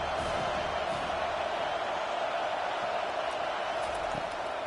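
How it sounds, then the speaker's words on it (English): A college football stadium crowd at West Chester University versus Robert Morris University roars steadily on third down, a broad, sustained wash of cheering and noise at a distance. "Decibels rising as the crowd gets behind this defense on 3rd down."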